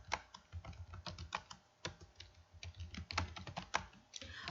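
Someone types text on a computer keyboard while filling a text box in Hangul word-processing software. The close, irregular key clicks come in quick runs with brief pauses between them.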